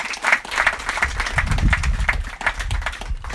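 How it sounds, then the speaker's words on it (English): A ceremony audience applauds Unite BVI and their team at a school library handover, a steady wash of clapping from many hands lasting a few seconds, with some low rumble underneath. "please give Unite BVI and their team a round of applause"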